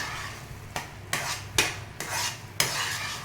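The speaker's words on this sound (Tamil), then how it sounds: "நாம் இன்னும் கொஞ்சம் கீ சேர்த்து இதை இன்னும் நல்லா கிளறி விட்டுக்கலாம்" Carrot halwa is stirred with ghee in a pan, a spoon scraping and clattering against the metal in about five distinct strokes over a soft sizzle.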